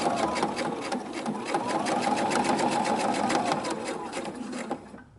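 A sewing machine stitches fabric for a baby changing pad, its needle tapping in a steady rapid rhythm for about five seconds with no talking, then stopping at the end.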